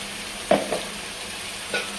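Masala paste for crab curry hits a hot pan, giving a low steady sizzle with a few brief louder bursts of stirring or spattering. No voices.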